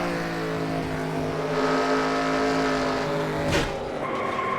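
Race car engines in a racing video game hold a steady, loud multi-tone drone, then a sudden sharp burst of noise near the end as a wreck breaks in, followed by a lower, rougher engine note.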